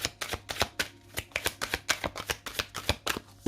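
A deck of cards is shuffled and cut during a horoscope card reading, giving a steady run of crisp riffling bursts, close and fairly loud, with no talking.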